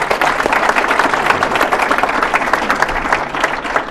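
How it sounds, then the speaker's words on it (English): Audience applause at a startup speaker event, dense steady clapping from a crowd throughout, loud and close with no talk over it. "Can we give David a round of applause?"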